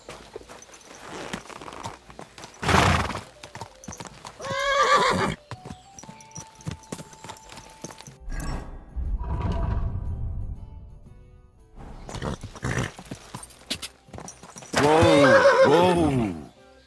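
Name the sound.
horse neighing and hooves clip-clopping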